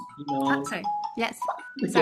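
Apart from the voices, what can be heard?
iPhone ringing or notification sound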